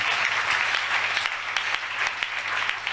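A church congregation applauding, a dense steady clatter of many hands clapping at once, loud and sustained without a break.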